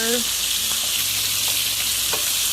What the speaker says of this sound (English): I'm going to fry up or saute the onions and peppers